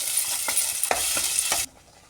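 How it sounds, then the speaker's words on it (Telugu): A tomato, onion and cashew paste fries in a pan for paneer butter masala, hissing steadily with a few spatula scrapes before the sizzle cuts off abruptly. "పేస్ట్ వేసి కొంచెం ఫ్రై చేస్తాము"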